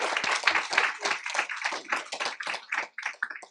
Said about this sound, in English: Let's give Betty a round of applause first.